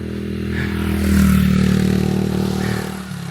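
A motorcycle engine straining up an incline through pine trees, a steady low drone that swells slightly and holds, close and loud with a rough rattling edge.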